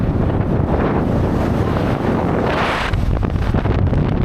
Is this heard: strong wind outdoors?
yes